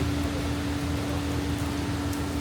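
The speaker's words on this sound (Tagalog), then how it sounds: "hintayin lang namin mawala yung ulan" Dense, even hiss of steady rainfall, continuous and moderately loud, with a low hum underneath and no talking.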